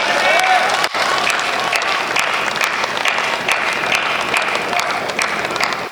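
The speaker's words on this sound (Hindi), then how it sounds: "आपने तालियां शायद इसलिए बजाई हैं" Loud audience applause at a Hindi poetry recital, a dense sustained burst of clapping from a large crowd that continues evenly, close and full.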